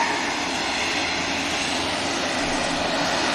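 A fixed-wing aircraft's engines roar steadily and loudly on the runway at Manchester Airport, a dense, unbroken wash of engine noise with no voices.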